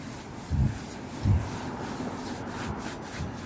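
A clay bar rubs across car paint in two short, soft swishing strokes, faint and close, over a low steady background hiss with no talking.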